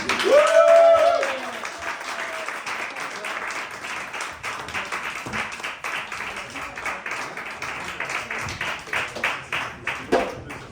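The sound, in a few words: audience applause welcoming Lionel Solveig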